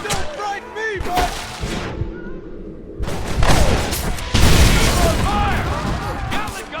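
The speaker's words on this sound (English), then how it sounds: "Fire! Gatling gun, use it!" A Gatling gun in the Western game Red Dead Redemption hammers away in heavy rapid bursts with booming impacts, over game music and shouting voices, surging louder in the second half.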